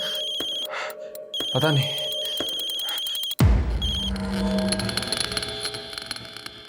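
A phone rings in a crime drama television episode with repeated electronic beeping tones, then a loud dramatic music hit crashes in and sustains, with a few spoken words.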